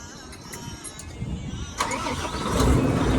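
A car engine cranks and catches, a low rough churning that builds into a steadier running rumble near the end, fairly close with no talk over it.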